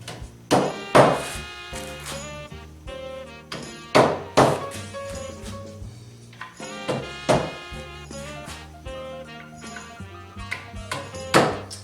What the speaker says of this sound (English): you can go ahead and put in your dowels